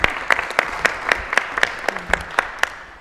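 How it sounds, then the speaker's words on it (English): A few people clap sparsely in a quiet meeting room during a council meeting, each individual clap distinct, tapering off quickly. "I think we should round of applause that."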